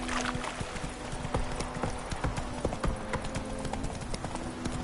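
Hooves of Roach, Geralt's horse in The Witcher 3, pounding rapidly in a steady galloping rhythm, close and constant.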